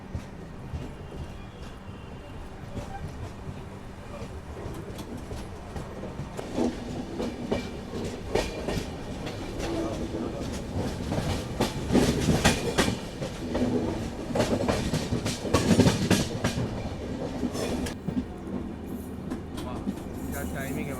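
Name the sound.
Maharashtra Express train departing station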